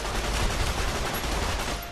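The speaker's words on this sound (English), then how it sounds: "We have a little 9mm submachine gun. It looks like a World War II grease gun" A 9mm submachine gun in the video game Fallout: New Vegas fires in a sustained, dense rattle, loud and unbroken for about two seconds before tailing off slightly.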